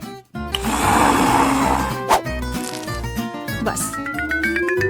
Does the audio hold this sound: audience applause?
no